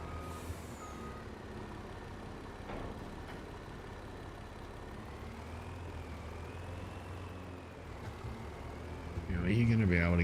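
A truck idles close by with a hiss of air brakes and repeated reversing warning beeps, while voices are present and a louder burst of sound rises near the end.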